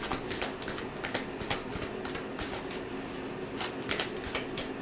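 Tarot cards shuffled by hand give repeated quick riffling bursts in an even rhythm, close and fairly quiet, with no talking.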